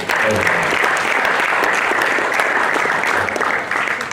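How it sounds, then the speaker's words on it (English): At a college entrepreneurship summit, the audience gives a room of entrepreneurs loud, sustained applause. The dense clapping continues evenly without pause from start to finish. "Please give them a huge round of applause."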